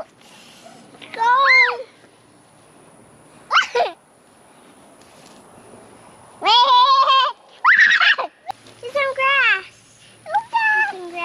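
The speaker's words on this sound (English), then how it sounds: "You see those big goats?" Goats on a farm bleat in several separate loud calls, some wavering and drawn out, spaced across the stretch with quiet gaps between.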